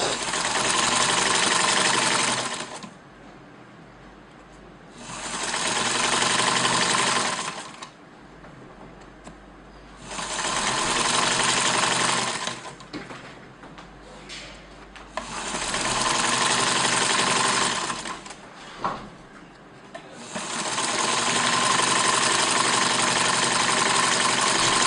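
A sewing machine stitches fabric pieces together, running in four or five loud, steady bursts of rapid whirring a few seconds each, separated by short quiet pauses with faint handling noises.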